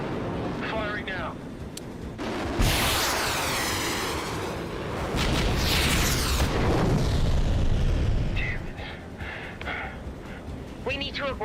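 A fighter jet fires a missile in an action movie, followed by a huge rolling explosion: a sharp launch burst, then a long roaring boom that swells and fades over several seconds, loud and close, with dramatic voices around it.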